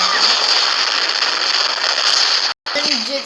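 A bomb goes off in a mobile simulator video game as a loud, sustained crackling roar that fills the clip, cuts out briefly, then gives way to faint electronic tones.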